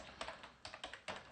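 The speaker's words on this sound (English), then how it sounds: "New keyboards, hate changing keyboards." Typing on a new computer keyboard: a quick run of soft, close key clicks in small clusters, quiet and alone.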